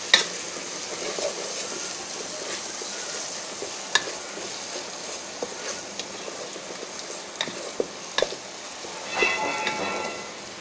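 Spices for a Bengali egg biryani sizzle steadily in a pan while being stirred, with occasional sharp scrapes and clinks of the spoon against the metal; no one speaks.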